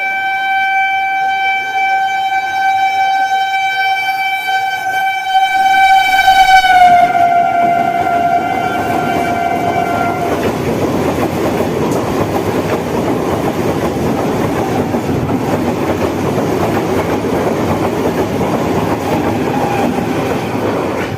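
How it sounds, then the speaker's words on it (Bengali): A MEMU passenger train, the 03184 Down Lalgola–Sealdah, blares a long horn, then runs through platform 2 at Ichapur station without stopping, rushing past up close with a loud, steady rumble and rattle of wheels that carries on. "2 নম্বর প্ল্যাটফর্ম দিয়ে থ্রু ট্রেন যাবে।"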